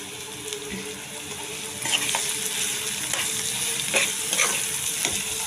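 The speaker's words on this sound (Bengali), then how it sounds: "এখন আমি পেঁয়াজের মধ্যে এই আদা রসুন বাটাটাও" Ginger-garlic paste frying with onions in a hot pan for egg curry, a loud continuous sizzle with scraping spoon strokes stirring through it, no talking.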